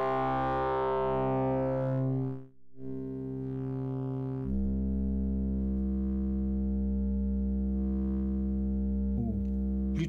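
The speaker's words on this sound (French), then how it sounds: "Si on s'écoute l'onde sèche..." A dry, slightly detuned synthesizer oscillator waveform plays as a steady, bright buzzing tone with no other sound. It cuts out briefly near the start, then returns at a lower, fuller pitch that holds to the end.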